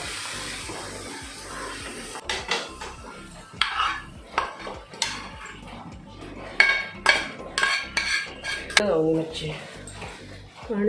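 Cooked prawn masala being scraped from a pan into a dish, with repeated clinks and knocks of a spoon against metal and crockery, a voice talking over the handling.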